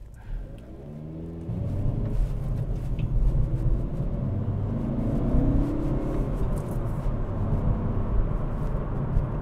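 A 2022 Hyundai Veloster N with a manual gearbox blips its engine to match revs on a shift, a steady close-up cabin drone that swells and rises in pitch after a quieter start and holds strong to the end.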